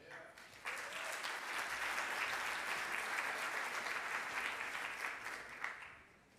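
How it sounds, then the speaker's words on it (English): Conference audience at an annual meeting plenary session breaks into applause, a dense steady patter that starts abruptly, holds for several seconds and fades out at the end. "Another round of applause"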